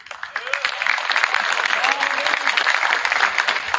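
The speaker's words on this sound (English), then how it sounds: "we're going to give Paul a round of applause for getting Teddy ready" A crowd at a boys' high school wrestling signing ceremony at Rockhurst High breaks into sustained applause for the trainer Paul, steady dense clapping throughout with a few voices and whoops mixed in.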